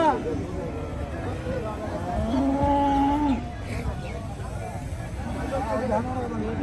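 A single long, loud moo from a bull at a busy cattle market, rising out of crowd babble and people talking nearby.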